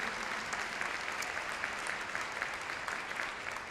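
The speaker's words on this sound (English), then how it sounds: "Yes, that deserves a round of applause." An audience at a university commencement ceremony breaks into steady applause, a dense, even wash of many hands clapping at moderate distance with no talk over it.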